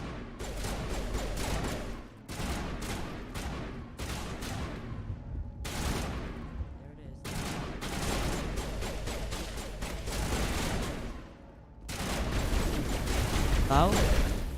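Bursts of rapid automatic gunfire and explosions from the Mass Effect Legendary Edition video game, loud and dense in repeated volleys separated by short pauses, with a voice speaking over the action.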